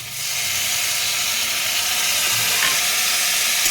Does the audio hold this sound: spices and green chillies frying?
yes